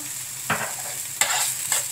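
A utensil scrapes and stirs through a mussel dish in a pan, three short bursts of scraping over a soft steady sizzle.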